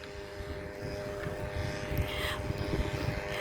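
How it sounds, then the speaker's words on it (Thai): A low, steady boat engine drone hums throughout, moderately distant, at Koh Loy, Sriracha, Chonburi, Thailand, with faint higher whines drifting over the rumble. "เป็นเสียงของเครื่องยนต์เรือค่ะ"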